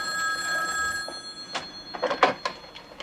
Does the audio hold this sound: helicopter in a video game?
no